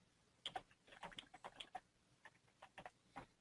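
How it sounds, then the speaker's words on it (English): Typing on a computer keyboard during an online webinar, a quiet run of quick, uneven key clicks in short bursts with brief pauses, close but faint. "I can correct my typing."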